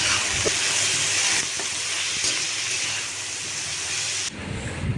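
Potatoes fry with dried red chillies, turmeric and salt in a pan, a constant loud sizzling hiss broken by a few faint clicks and pops.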